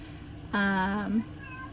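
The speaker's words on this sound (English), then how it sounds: "you hear my cat Star. She just started her heat cycle" A female cat in heat lets out a single loud, drawn-out meow close by, rising then bending down at the end, standing out against a quiet room.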